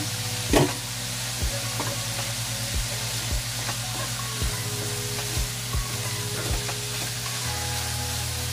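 A dish with kangkong leaves sizzles steadily in a pan while a utensil scrapes and knocks against it in a slow, regular stirring rhythm, about one stroke per second, close up and without talk.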